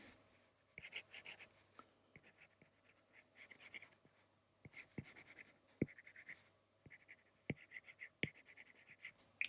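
Pencil sketching a cartoon ear on paper gives faint, close scratchy strokes in irregular bursts, with light taps and scrapes repeating across a quiet room.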